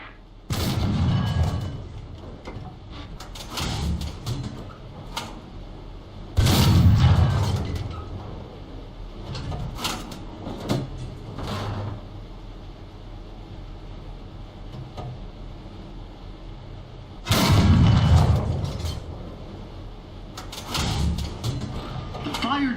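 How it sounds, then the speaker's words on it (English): Tank cannon shots in the War Thunder video game, several heavy booms spaced seconds apart with rumbling decay, under a steady engine hum and intermittent talking. "The fired shell flies along a ballistic trajectory, while the reticule shows where the cannon is aiming."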